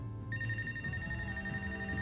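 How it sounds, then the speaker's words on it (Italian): A telephone rings in the Life is Strange: Wavelengths video game, a steady electronic ring tone sounding continuously and clearly over a low background. "Telefono."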